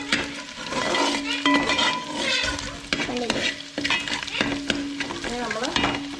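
Garlic and egg for fried rice sizzle in a hot pan while being stirred, with repeated scraping and clinking of a utensil against the pan over a continuous frying hiss, and no voices.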